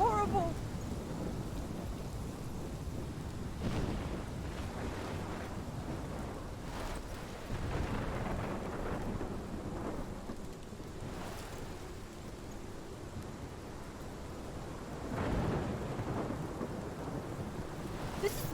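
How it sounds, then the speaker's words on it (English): Thunderstorm in the Life is Strange video game: heavy, continuous rain under repeated deep rolling thunder claps, some swelling loud and close, with no talk. "This is my storm."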